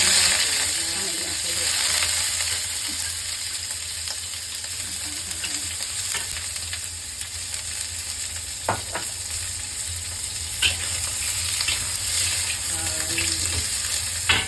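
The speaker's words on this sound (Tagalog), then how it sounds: "燒熱啲着鑊啦，就擠排骨去爆香佢。" Pork ribs fry in a hot wok with a dense, steady sizzle and crackle running throughout, close and continuous, punctuated by occasional sharp scrapes and clinks of the spatula against the metal.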